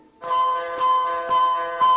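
A vintage electronic gadget rings a bell-like chime four times at a steady pace, each strike sustaining a bright ringing tone, close and fairly loud with no voices.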